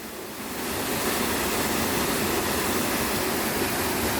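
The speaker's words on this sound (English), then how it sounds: "That's the waterfall." Steady broadband roar of a waterfall near a dark cave, heard up close as a loud, continuous rush that swells in within the first half second and then holds even.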